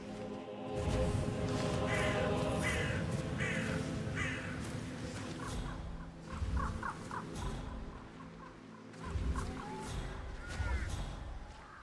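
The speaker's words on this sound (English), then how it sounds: "Damn birds! If I could just get a clear hit on those nests." In the Hitman 3 video game, crow-like birds caw from their nests in repeated harsh bursts, moderately close, over a thick, busy in-game background with low rumbling.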